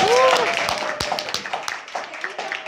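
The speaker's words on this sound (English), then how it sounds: "a round of applause to" Audience applause after an education session on persuasive speaking. Spoken words open briefly, then scattered claps come from a modest room crowd and thin out toward the end.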